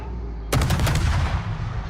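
Heavy naval gun salvo from a World of Warships battle, a sudden loud blast after a half-second lull, followed by several rapid rolling booms and a rumbling tail.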